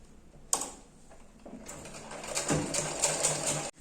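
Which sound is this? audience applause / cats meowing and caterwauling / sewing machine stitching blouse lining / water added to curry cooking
sewing machine stitching blouse lining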